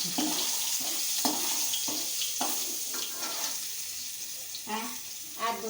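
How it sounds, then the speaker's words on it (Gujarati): Chillies are added to ragda in a pan and stirred, giving a steady frying hiss with rhythmic scraping strokes of the spoon, close and moderately loud, with no talking. "હવે આપણે આ મરચાં લીધા હતા એ નાખી દઈશું. તે હલાવશું."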